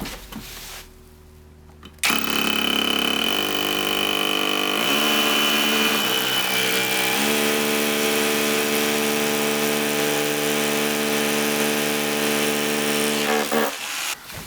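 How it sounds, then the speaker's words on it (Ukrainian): Loud, continuous drilling from a Start Pro cordless rotary hammer with an 8 mm bit grinding into brick, a steady whine with rattling impacts running for most of the clip before stopping abruptly. "давайте спробуємо, як працює по кирпичу. Бур 8 мм."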